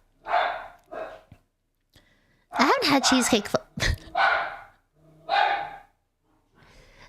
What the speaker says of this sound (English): let me see if my dog wants to be picked up